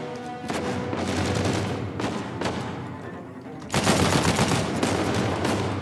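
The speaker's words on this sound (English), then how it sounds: "And he's shooting the shit out of me." Sustained gunfire from Uncharted 4: A Thief's End, with automatic bursts and booming shots rattling continuously, loud and close, swelling into a heavier barrage near the end.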